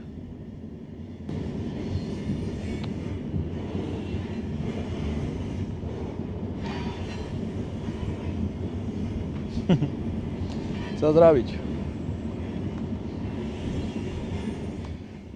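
Steady low rumble of a train rolling along slowly through the Sahara, with occasional squeaks and a brief wheel squeal, while a person speaks briefly in Polish.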